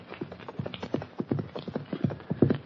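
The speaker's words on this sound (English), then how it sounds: "a horse and rider bear down on them at a fast gallop" Hoofbeats of a galloping horse carrying a rider near a corral at a ranch house, a quick rhythmic clip-clop drumming steadily and growing closer, fairly soft, with no talk over it.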